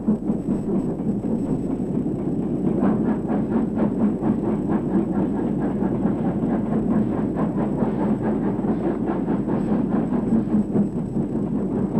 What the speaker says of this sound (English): And a 4F060 being banked by a 3F060.